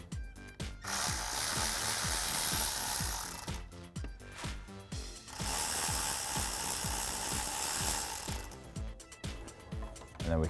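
Two T50 bolts coming out from under the throttle body of a 2016-2023 Camaro SS, with bursts of tool whirring and ratcheting clicks in two long runs separated by short pauses, close and fairly loud.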